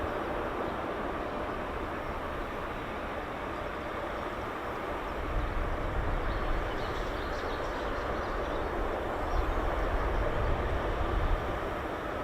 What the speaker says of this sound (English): The takeoffs on the C-17 are impressive.